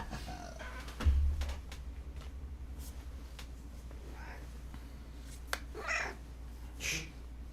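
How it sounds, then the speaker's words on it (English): A pet cat meows a few times, short mid-pitched calls spaced apart near the end, over a steady low hum and soft room noise, with a faint thump early on. "Come here, cat. I gotcha."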